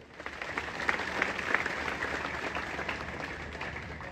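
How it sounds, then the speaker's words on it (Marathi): Audience applause at a public gathering in Maharashtra, a steady wash of many hands clapping at moderate level with no voices over it. "सर्वांनी एकदा छान टाळ्या वाजवायच्या सगळ्या."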